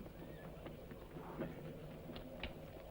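Horse hooves clip-clopping in a Western film scene, a faint, steady rhythm of hoof beats over a low background rumble.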